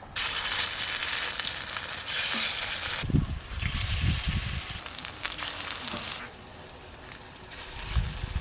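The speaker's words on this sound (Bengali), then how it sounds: "এই পালং শাকের বড়াটা শেষকালেই ভাজবো আজকে" Spinach fritters (palong shak bora) fry in hot oil with a steady bright sizzle that briefly swells with crackling bursts as pieces are moved, then settles a little quieter, with no speech.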